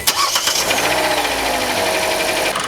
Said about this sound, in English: Now we're going to have a listen to the engine startup.